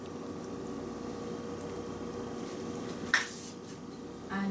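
Chopped onion cooks in half a cup of oil in a pot for a beef and chickpea dal curry. It makes a steady, soft bubbling simmer, with one brief clink of metal near the end.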